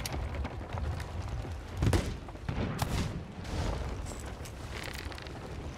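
Ship cannons fire in the pirate video game Sea of Thieves during a galleon battle, heavy booms and blasts rolling over a constant low rumble of battle noise, with the strongest hits near the two- and three-second marks.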